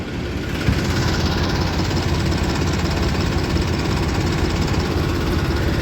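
A modified Mahindra 475 tractor engine runs steadily nearby, giving a loud, continuous, rough idling rumble with a knocking texture throughout.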